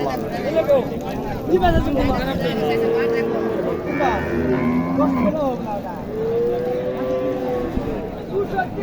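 A Sahiwal cow at a busy rural cattle market in Naogaon gives several drawn-out moos amid a constant crowd hubbub, with people talking loudly nearby.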